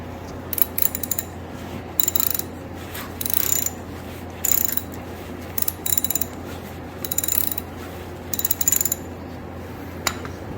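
Bolts are threaded back into the frame of a 1971 Yamaha RT1B 360 motorcycle with a ratchet, whose quick metallic clicking comes in short repeated bursts over a steady low background hum.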